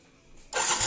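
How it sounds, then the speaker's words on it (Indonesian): A Yamaha Mio scooter engine starts up after half a second of near silence, its small motor catching abruptly and settling into a loud, steady running noise close by. "saya akan coba hidupkan dulu di bagian motor ini"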